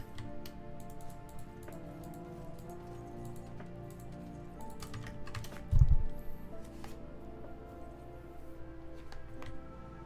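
Computer keyboard and mouse clicking during a Path of Exile 2 gaming session: rapid, close, continuous tapping and clicks with a brief louder thump midway, over a low steady hum.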